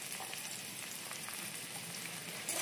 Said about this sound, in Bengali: ফুলকপিগুলোকে হালকা লাল লাল করে ভেজে নিয়ে এবার এর মধ্যে দিয়ে দেব কেটে রাখা